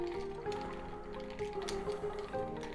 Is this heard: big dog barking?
no